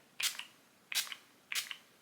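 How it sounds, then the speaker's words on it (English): Three short, crisp hisses from a pump-bottle facial mist with aloe, chamomile and lavender, evenly spaced about two-thirds of a second apart, close and quiet. "This is a facial spray with aloe, chamomile, and lavender."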